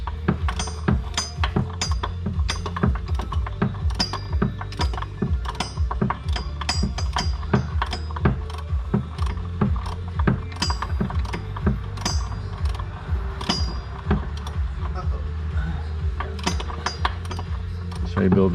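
Ratchet wrench clicking steadily as it turns a bolt through a long chain of twelve U-joint extensions during a BMW engine swap, rapid metallic clicks and clinks close up, continuous throughout.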